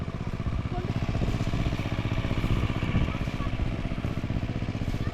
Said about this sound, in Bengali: দেখো না ওই টিলার চালাচ্ছে। এটা আমাদের আছে, এই পাওয়ার টিলার।